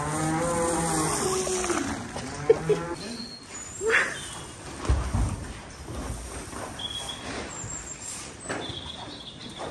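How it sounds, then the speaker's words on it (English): Cows moo in an indoor barn at feeding time on a Welsh farm, several long, low calls at moderate distance over steady background noise, with some voices in the background. "you always feed the cows food first because they're noisier than sheep, and I can put up with the sheep noise"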